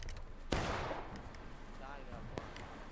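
Musket volley fire in the Civil War game War of Rights during a large 300-player battle, one sharp loud report followed by a long rolling echo, then a later lighter shot, with voices murmuring underneath.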